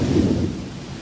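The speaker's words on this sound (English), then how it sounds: "Thunderstorms may be brief here, but they often presage long rainy spells." Deep rumble of thunder in an African wilderness storm, a loud low roll that swells early and slowly fades, with a soft wash of rain beneath and no voices.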